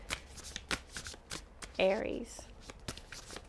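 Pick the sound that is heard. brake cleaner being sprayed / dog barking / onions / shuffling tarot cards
shuffling tarot cards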